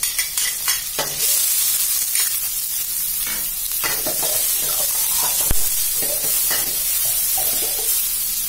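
Minced garlic and chopped bird's eye chilies are stirred in hot oil, producing a loud, continuous close-up hiss and sizzle with brief scrapes of a spatula; nobody speaks.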